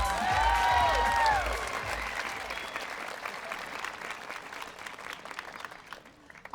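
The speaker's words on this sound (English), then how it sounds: "Let's have another round of applause for those awesome jackets." A fashion show audience claps loudly and steadily for student-designed jackets, the dense applause slowly thinning out with a few voices and cheers mixed in near the start.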